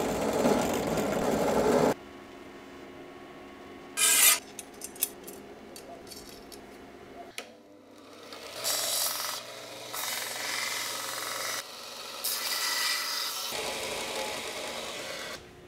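Edges are chamfered with a handheld rotary tool: a sustained whining grind that stops and restarts, with short scraping passes and clicks in between, close and moderately loud.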